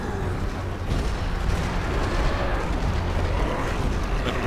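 A dense, continuous rumble of booming explosions in Diablo 3 with heavy low-end roar, loud and steady throughout, no distinct pauses between blasts.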